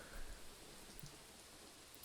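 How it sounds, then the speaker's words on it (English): Heavy rain pours in the video game Raging Loop, a faint, steady hiss that carries on without a break. "I'd heard some raindrops as we were climbing the rusty stairs, but now it was really pouring"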